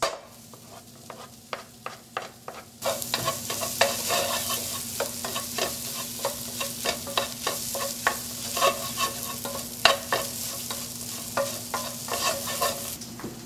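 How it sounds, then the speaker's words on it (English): Chopped mushrooms sizzle loudly in a pan already golden from tomato paste for a vegetarian bolognese, with a steady frying hiss and repeated rhythmic scrapes of stirring. "Next step is to add our chopped mushrooms."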